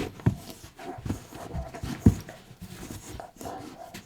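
A dog panting close by in short, uneven breaths, with a few thumps and scuffs mixed in and no talk.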